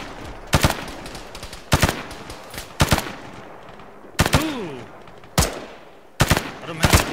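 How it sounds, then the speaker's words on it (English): Arma 3 machine gun fire arriving as about seven short, loud bursts with brief pauses between them, each burst trailing off in a fading echo. "They're shooting right at us."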